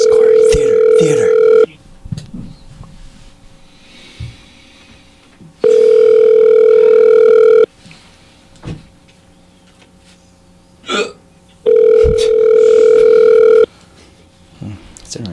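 Telephone ringback on an unanswered call, three loud steady tones of about two seconds each separated by pauses, with faint talk in between.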